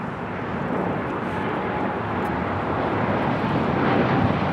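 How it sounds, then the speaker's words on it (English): A Japan Airlines Boeing 787-9 takes off for Osaka from the south side at LAX, giving a continuous broadband jet rumble that swells slightly toward the end, with no talking. "That is Japan Airlines Flight 69 taking off to Osaka"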